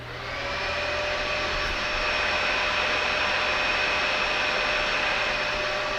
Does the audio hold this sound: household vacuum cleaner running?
yes